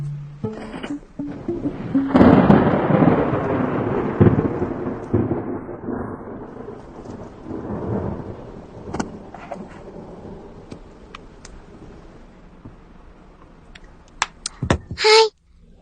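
Heavy rain and thunder, a deep rolling rumble swelling early then fading slowly over several seconds, followed by sparse sharp cracks and taps near the end.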